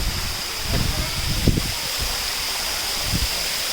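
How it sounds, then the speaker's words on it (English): A waterfall at Moore or Looking Glass Falls in North Carolina roars as a steady, close wash of falling water, with faint voices in the background. "I could totally just shower right there, like right under the waterfall."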